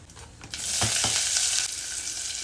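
Cumin seeds, urad dal, fenugreek and chopped green chillies spluttering in hot oil, a loud continuous sizzle swelling after a couple of sharp crackles, with no voices present.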